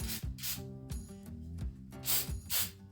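Pipe weld is sprayed around a trolling motor tube in several short, close hissing bursts, with brief pauses between the sprays.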